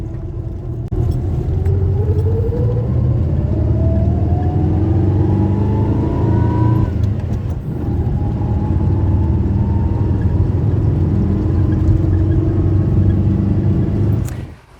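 A ZAZ-965 small city car accelerates steadily, its engine note climbing through the gears with a brief dip around a shift, loud and close, with a continuous low rumble throughout.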